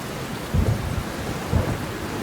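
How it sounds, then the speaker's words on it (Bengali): Steady heavy rain with low rumbles of thunder swelling twice, no voices. "দেখছো না কেমন বজ্র বৃষ্টি হচ্ছে?"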